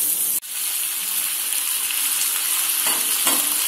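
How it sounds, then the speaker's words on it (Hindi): Cut potatoes sizzle steadily in hot oil in a pan for crispy aloo bhujia, a continuous close frying hiss with a brief sharp knock near the start and a couple of louder stirring bursts toward the end. "और उसके बाद हम आलू डाल देते हैं"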